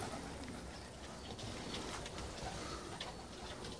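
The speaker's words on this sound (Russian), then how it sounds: "Необычные голуби." Pigeons of an unusual breed cooing softly amid steady low background hiss, the calls faint and blended into the noise throughout the short stretch.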